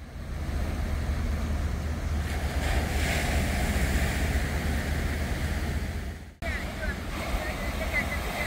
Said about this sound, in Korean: 그래서 파도 소리가 더욱 특별하게 들린다고 합니다.